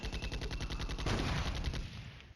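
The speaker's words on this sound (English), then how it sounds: "The mortars are trying to catch them a kilometer behind." Rapid, dense mortar and artillery-style explosions from the wargame Flashpoint Campaigns: Red Storm, a continuous rolling barrage of booms that swells near the middle and then thins out, with no talk.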